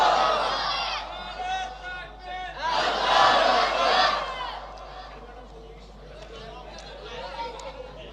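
A large crowd at a religious sermon gathering in Gaibandha roars slogans in loud, surging unison, peaking midway and then fading into scattered voices and chatter.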